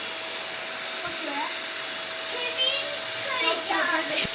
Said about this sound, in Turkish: Ve vakumlayacağız bakalım oluyor mu? Elektrikli süpürgeyle evet.